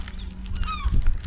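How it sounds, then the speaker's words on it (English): Gulls at a seaside beach in Brean give a few short, thin calls, fairly close, over steady wind and low rumble with a thump near the end. "All the seagulls come in."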